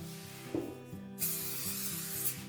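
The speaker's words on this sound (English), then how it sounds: "we're going to spray the table again." A spray nozzle hisses in two short bursts close by, spraying oil onto a table, a brief spritz followed by a longer steady spray, over a faint low hum.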